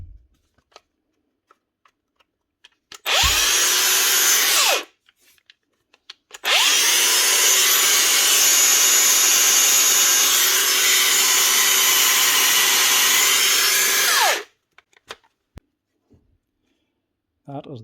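A cordless Makita angle grinder, rusted solid after being salvaged from a sunken boat and now restored, runs with a loud high-pitched whine. A short burst of about two seconds comes first, then a longer eight-second run, with quiet gaps around them.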